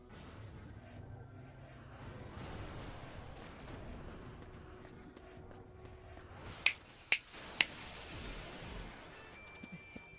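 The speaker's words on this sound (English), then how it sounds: "Finger snap." Three sharp finger snaps ring out in quick succession during a Final Fantasy X-2 battle sequence, standing out crisply above a steady wash of game ambience and music.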